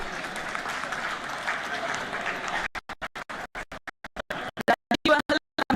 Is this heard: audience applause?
yes